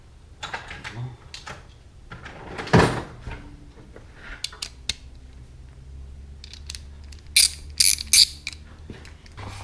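A socket ratchet tightens bolts on Fuel wheels for an RC Dirtymax, faint clicking and ratcheting in short scattered bursts with a few sharper metallic clacks, close and quiet.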